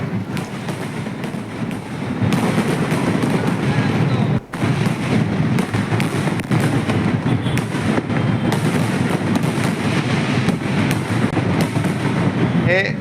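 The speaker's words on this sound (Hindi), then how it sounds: "धूमधाम से पटाखे फोड़ते हुए वहां की ये तस्वीर है" Dense, continuous crackling and booming of fireworks and firecrackers set off in the Middle East, loud and close, with bursts overlapping for the whole stretch and a brief dip midway.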